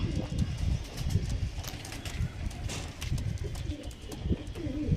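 Pigeons, a pair offered for sale, coo softly in repeated low throaty phrases, with scattered shuffling and light knocks around them, close by and steady throughout.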